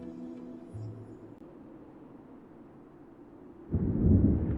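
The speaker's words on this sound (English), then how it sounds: "I hear thunder. Rain is soon to follow." Thunder in the video game Cindered Shadows rumbles faintly at first, then a deep, loud roll swells near the end, with no talk over it.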